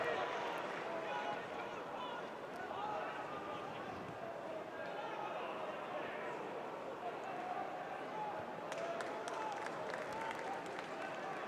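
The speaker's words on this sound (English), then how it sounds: "There is applause from the scant Wednesday support inside Hillsborough." Scattered applause from a sparse crowd of Sheffield Wednesday supporters inside Hillsborough stadium during an EFL Cup match against Grimsby Town, a steady distant patter blended with crowd noise and commentary over the top.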